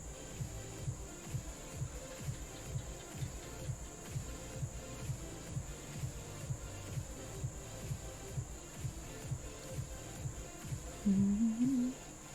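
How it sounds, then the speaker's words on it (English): A paint shaker machine runs steadily at close range with a loud, rhythmic buzzing rattle and a constant high whine. A brief rising tone sounds near the end, and no one speaks. "maybe mute the microphone when I'm using the paint shaker or something"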